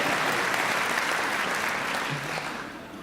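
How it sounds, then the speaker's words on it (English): An audience at a Rotary conference claps steadily for a few seconds, a dense, even wash of many hands that fades slightly toward the end, with no voices over it. "Give him a round of applause."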